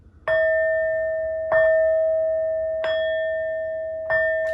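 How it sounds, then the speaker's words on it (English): Four clear bell strikes at an even pace, each ringing tone sustaining and slowly fading before the next, loud and close. "These next 4 bell sounds are to align us and to bless this reading."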